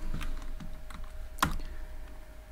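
Keys clack on a computer keyboard while Python code is typed, a quiet run of irregular taps with one sharper keystroke midway, alone without talk.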